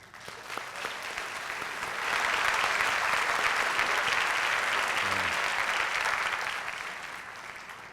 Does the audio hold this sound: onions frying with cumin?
no